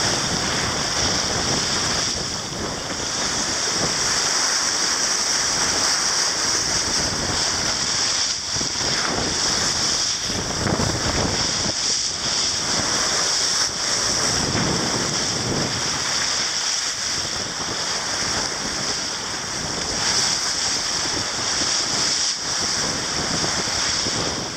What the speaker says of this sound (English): The minute we entered the stream, the winds went from about 8 to 10 knots to about 20 knots